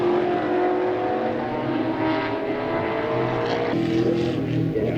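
Race cars, including a 2023 Ford Mustang, pass on a circuit in a WA Sporting Car Club round: a loud, sustained engine drone that shifts in pitch as the cars go by, steady from start to finish.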